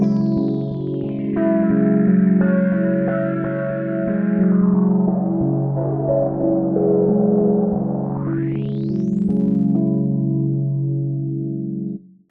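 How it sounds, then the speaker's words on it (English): A sustained synth tone is processed through the UVI Thorus XT chorus in analog mode, giving a warm, filtered sound. Its swirling, shimmering layers sweep down and then back up in pitch over about twelve seconds, loud and close, with no talking. "In the analog mode, this effectively darkens the chorus into something a little more warm"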